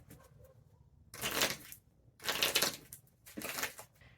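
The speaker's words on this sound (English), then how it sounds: "and then has to shuffle immediately" A deck of playing cards for the Marvel Champions card game is shuffled in three riffling bursts, each about a second long, close and crisp, separated by short pauses.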